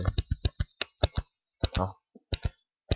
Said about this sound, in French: moi, j'utilise la flèche de mon clavier